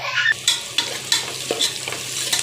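Chili powder and biryani masala being sautéed in hot oil for a simple chicken biryani: a close, steady sizzle punctuated by rhythmic scraping strokes of a spoon stirring the pan, with no talking.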